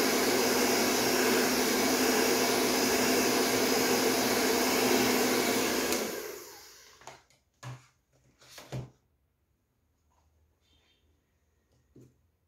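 A hair dryer blows steadily and loudly on drying paint for about six seconds, then switches off, followed by a few quiet knocks and handling sounds in a near-silent room.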